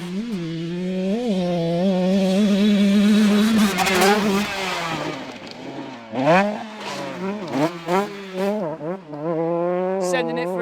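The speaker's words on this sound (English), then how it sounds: "Sean's about to come around now to start his hot lap on the bike." A 125cc dirt bike revving through a run of rising and falling engine pitches as it starts a hot lap, the two-stroke wail swelling up close then easing between bursts.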